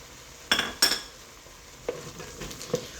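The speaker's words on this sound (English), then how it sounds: "I'm going to dump in a couple tablespoons of garlic." Garlic dropped into a hot pot for carne guisada, with two sharp clattering hits followed by a soft sizzle and a few light scrapes of stirring, close and without talk.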